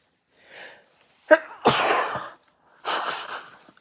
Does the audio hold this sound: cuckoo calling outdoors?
no